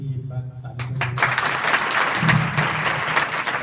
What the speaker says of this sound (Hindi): अपने प्रबंधक महोदय के लिए भी एक बार ताली बजाएं।